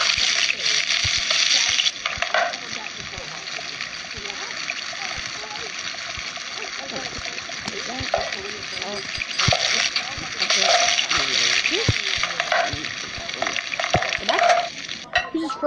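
Shrimp frying on a deep pan grill gives a steady sizzle with spattering bursts throughout, under talk and kitchen movement.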